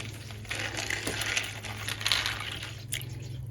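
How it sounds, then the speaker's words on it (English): Water poured over seeds soaking in a tub indoors gives a soft, faint splashing and trickling with a low steady hum beneath, no voices present. "we're just going to cover them with water"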